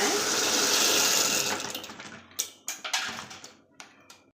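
Macaroni tipped into a pot of boiling water: a rushing, bubbling wash for about two seconds, then a scatter of sharp little taps and clicks as pieces drop and settle.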